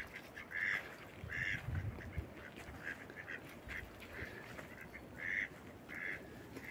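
Ducks quack in short repeated bursts, about six clusters spread evenly across a few seconds over a steady outdoor background, fairly close and clear with no voices.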